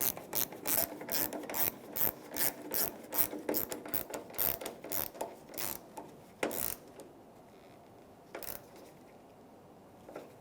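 A 10mm socket or wrench ratchets tail light screws into the plastic ears of a 2000-2006 Toyota Tundra, with rapid close clicking in bursts that slows and thins into sparse, isolated clicks.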